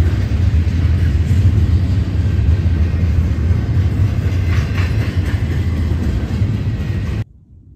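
A train rolls past on tracks at night beside a tent in freezing cold, a loud continuous rumble and rattle of rail cars that holds steady, then cuts off abruptly.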